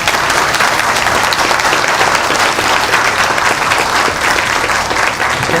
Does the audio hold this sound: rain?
no